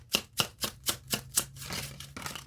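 A homemade deck of cards being shuffled by hand, giving about eight quick, crisp slapping riffles in a steady rhythm, close and fairly loud, followed by a looser rustle of cards.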